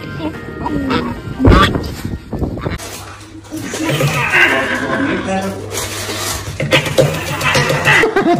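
Geese honking loudly and repeatedly in harsh, nasal bursts at close range, mixed with excited human voices talking over the commotion.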